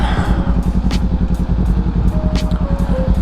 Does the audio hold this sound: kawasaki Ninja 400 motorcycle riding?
yes